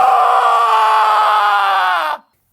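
A person lets out a single loud, sustained scream lasting about two seconds, held steady and close before cutting off abruptly into silence.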